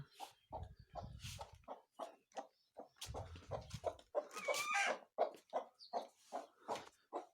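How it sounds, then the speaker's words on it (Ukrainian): A broody hen clucks close by in quick, repeated bursts, with occasional low rustling and thumps between the calls. "Заганяю квочку."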